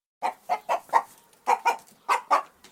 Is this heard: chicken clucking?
yes